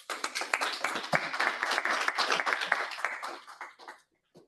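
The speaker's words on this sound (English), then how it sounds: "Please welcome her with a round of applause." Conference audience applauding after a speaker is introduced, a dense burst of hand claps from a medium-sized crowd that swells, holds for a few seconds and then tapers off into scattered final claps and silence.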